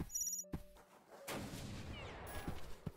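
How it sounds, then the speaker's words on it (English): In a frantic FPS game, a ringing warning tone sounds just before an enemy whale fires its gun, followed by a sharp, booming shot and a rumbling tail, with another fainter bang near the end. "You get this cool little sound effect for a slight early warning before they shoot at you"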